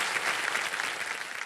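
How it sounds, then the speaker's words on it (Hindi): Studio audience applause on a television quiz show set, a dense, steady wash of many hands clapping at full volume for the whole stretch, with no voice over it. "तालियां बज जाएं और आपका आशीर्वाद बना रहे प्रतिभा जी के ऊपर"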